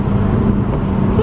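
BMW M2 engine giving a steady, loud, low-pitched drone throughout, continuous and close, with no distinct rev changes.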